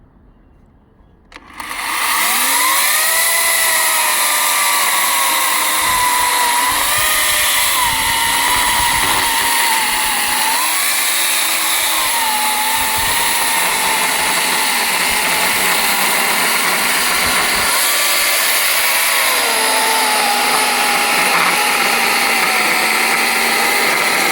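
A GTM electric chainsaw starts up and cuts through a thick hornbeam log, a loud continuous high whine that shifts pitch as the chain bites into the wood.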